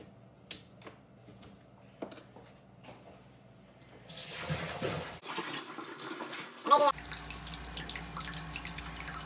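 Distilled water is poured into a homebrewing hot liquor tank: a few soft clicks and taps first, then a steady, splashing stream of water that continues to the end.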